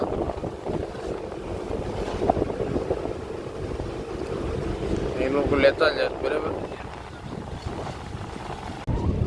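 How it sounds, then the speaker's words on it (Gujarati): Steady wind and sea wash around a small fishing boat off the Gujarat coast, a constant broadband rush with a brief swell of noise midway, while someone talks over it throughout. "થોડો થોડો વાવડો થઈ ગયો મોજા બરાબર"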